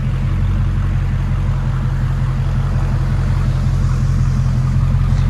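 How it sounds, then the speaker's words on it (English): Dodge Challenger with a 6.4L HEMI engine and muffler-delete exhaust, idling with a loud, steady, deep rumble throughout, no revving or voices. "there's the mufflers we cut off of it right there"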